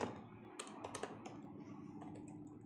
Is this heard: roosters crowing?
no